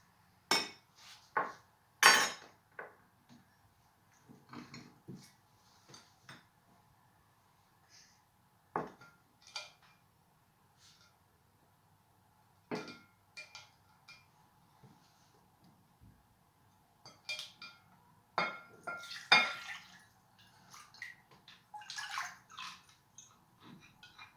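Cooked rice being strained from water in a kitchen: scattered splashes and pouring trickles mixed with light clinks of a pot or strainer, quiet overall with silent gaps between bursts.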